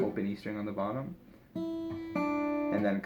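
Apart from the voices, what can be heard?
No everyday noises stand out.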